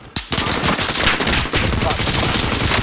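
Gunfire in the video game Call of Duty: Warzone, a loud, dense burst of rapid automatic shots sustained for nearly three seconds after a brief quiet start, close and harsh.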